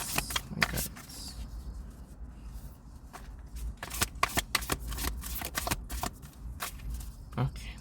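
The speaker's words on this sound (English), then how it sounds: "this shuffling isn't working" Tarot cards being shuffled by hand in irregular bursts of crisp riffling and tapping, close and fairly quiet, with a voice speaking between the bursts.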